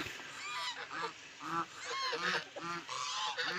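Geese honking on a village farm where turkeys and ducks are kept, with repeated loud nasal honks in quick succession, close by and with no talking.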